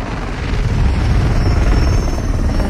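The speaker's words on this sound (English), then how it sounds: "And helicopters." A helicopter in the video game Fortnite drones loudly and steadily, a dense low rotor rumble filling the short stretch with no talk over it.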